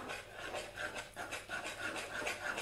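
Coconut milk being whisked into a leek quiche batter, a soft, steady rasping swish repeating in quick rhythmic strokes, close and fairly quiet with no talking.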